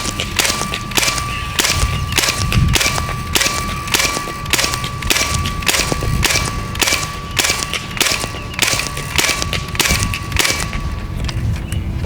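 A Hatsan Blitz .30 caliber air rifle fires in semi-automatic, sharp cracks each followed by a metallic ping of pellets striking steel targets, repeating at a steady rhythm of about one shot per second, loud and close.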